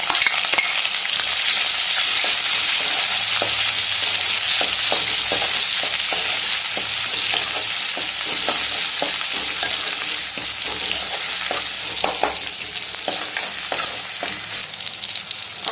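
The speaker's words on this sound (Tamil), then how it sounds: "அடுத்து பச்சை மிளகாய், ஆனியன் சேர்த்து வதக்கிக்கலாம்." Green chillies and onion sautéing in oil in a pan after cloves, cardamom and star anise, for an egg kuzhambu, giving a steady loud frying hiss with frequent scraping stir clicks, alone and without speech.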